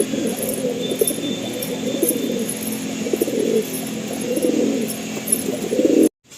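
Pigeons kept as a hobby flock, pencil-tailed females among them, coo in soft, continuous low murmurs close by, with faint chirps above and the sound cutting off abruptly at the end.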